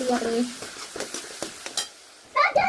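A spoon scrapes and stirs chili and turmeric into food frying in a pan, with soft sizzling and several short scraping strokes, while a voice talks briefly at the start and end.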